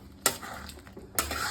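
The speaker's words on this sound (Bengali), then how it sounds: "এটাকে ভালো করে নাড়িয়ে নিতে হবে।" Food being stirred in a pan during cooking: two sharp metallic scrapes of a spoon against the pan, close and loud, with a quieter rustle and faint sizzle between them.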